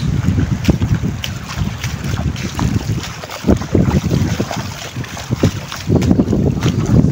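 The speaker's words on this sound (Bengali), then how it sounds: "প্রচুর বাতাস এই দেখেন কিভাবে বাতাস" Strong wind gusts roar steadily across an open flooded field in rainy weather, a loud continuous rushing buffet with low-frequency microphone wind noise and fluctuating intensity throughout.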